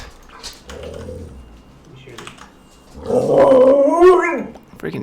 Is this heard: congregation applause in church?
no